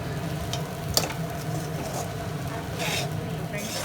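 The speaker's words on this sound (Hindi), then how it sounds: "अब यहाँ पर इसको थोड़ा सा हिलाएंगे हम करीब 3 से 4 मिनट तक" Marwari-style fasting sabudana khichdi is stirred in a pan, a steady close sizzle with soft scraping strokes and one sharp clink of the spoon against the metal near the start.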